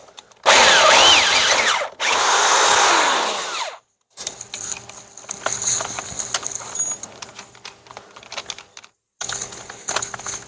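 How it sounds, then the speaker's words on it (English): A power drill bores a bolt hole in the bumper of a 1957 Chevy for a bumper guard, two loud whining bursts up close, then quieter scraping and clicking of tool handling against metal. "the final drill hole will be about 3/8, and that'll allow the bolt to go in"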